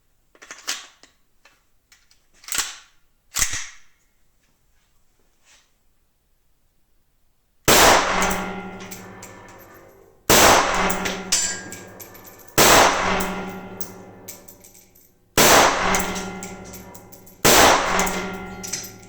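A CZ Bren 2 rifle in 7.62x39 without a stock is fired at 25 metres: a few quieter sharp reports first, then five loud, close shots at a steady pace of roughly two and a half seconds apart, each with a ringing decay.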